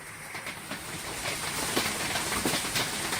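Hail from a severe storm pelts aluminum siding in a steady, dense patter of hard ticks and clatter, with a few sharper impacts standing out against a hissing wash of storm noise, heard without talk.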